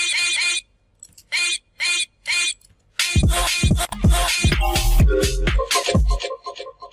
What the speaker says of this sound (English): This one is another vocal chop.